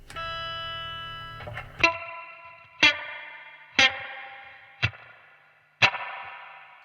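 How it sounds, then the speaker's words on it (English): A guitar plays a chord through a 1970s transistor amplifier, then sharp plucked hits repeat about once a second, each followed by a long, splashy, metallic spring reverb tail. "the spring reverb on this is great."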